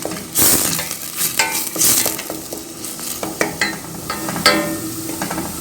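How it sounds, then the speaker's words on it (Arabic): Chopped onion frying in hot oil for Egyptian okra stew, a steady sizzle broken by repeated scraping and clinking stirs of a utensil against the pot, close and fairly loud, with no talk. "ونقلب في البصلة بقى لحد ما تحمر شوية"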